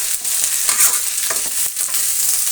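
Brinjal frying in hot oil, a steady close sizzle with a few stirring scrapes and bursts of crackle throughout.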